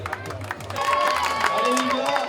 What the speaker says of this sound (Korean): 성공하지 못해도 격려의 박수를 아끼지 않는 모습이 보기 좋았다